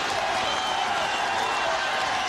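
A boxing crowd reacts at a 1977 British welterweight championship bout, Jim Breaks against Vic Faulkner, with a steady, dense roar of cheering and applause filling the hall throughout.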